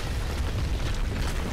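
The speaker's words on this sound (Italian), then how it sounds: "Te l'avevo detto che avrebbe fatto il botto." A video game explosion in Tomb Raider, heard as a sustained low rumbling boom filling the whole moment, with no voices.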